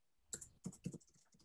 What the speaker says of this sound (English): I can hear some typing in the background.